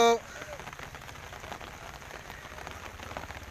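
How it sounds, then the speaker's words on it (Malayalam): Steady heavy rain pours down at Kooriyad near Vengara in Malappuram, a dense continuous hiss of drops on surfaces with a brief voice at the very start. "നല്ല മഴയാണ്"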